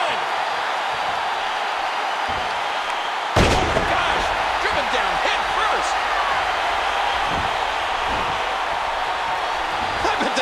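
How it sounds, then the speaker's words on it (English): A wrestling kick lands in WWE 2K14 with one sharp slam about a third of the way in, over a steady roar of arena crowd noise throughout. "you hear how his leg connected?"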